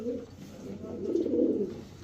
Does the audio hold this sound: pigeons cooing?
yes